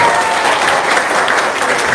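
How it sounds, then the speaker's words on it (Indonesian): Audience applause at an indoor gathering, a continuous wash of many hands clapping, loud and close, with no voices over it. "Tepuk tangan dulu semuanya"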